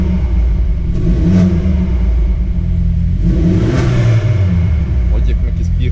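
A VW Polo GTS with a new intake and closed exhaust idles loudly, then revs in two sharp throttle blips with a whooshing intake rush on each, dropping back to idle between them.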